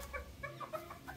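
A native desi hen clucks in short, close, fairly quiet bursts, several soft repeated clucks in quick succession with no talking over them.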